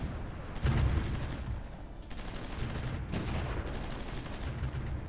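Artillery fire in the strategy game Supreme Ruler Ultimate comes as a fairly quiet, ongoing crackle of shots and dull blasts, with a couple of sharper bursts over a steady battle din.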